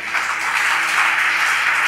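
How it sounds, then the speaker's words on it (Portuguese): Steady applause from a church congregation fills the space, dense and continuous clapping held at an even loudness throughout. "aplauda mais forte que é para Jesus"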